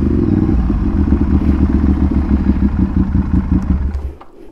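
A Ducati Monster 796 with a titanium exhaust runs close and loud with a rough, pulsing rumble and rapid clattery beats, holding steady before dropping off near the end; no speech is heard.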